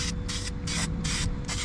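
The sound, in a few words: spraying high temp primer paint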